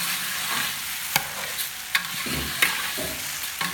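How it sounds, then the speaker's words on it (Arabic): Onions fry in a large pot for Iraqi lentil soup, with a steady close sizzle and repeated spoon scrapes and knocks as they are stirred. "هاي نقلبه بهالطريقة حتى البصل اللي يحترق يصير كله سوية"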